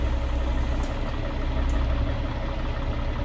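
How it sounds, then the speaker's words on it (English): Steady low rumble of a 465 hp Cummins 855 truck engine idling in American Truck Simulator, heard through open windows with rain, an even continuous drone throughout. "the engine is a 465 horsepower Cummins 855 from SerialBlack"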